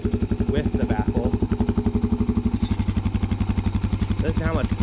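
A 2018 Suzuki DR-Z400S with its exhaust baffle fitted idles close by, putting out a rapid, regular, chugging exhaust beat that runs steadily, with a voice briefly heard over it.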